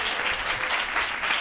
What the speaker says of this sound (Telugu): గట్టిగా చప్పట్లు కొడుతూ ప్రభు నామమున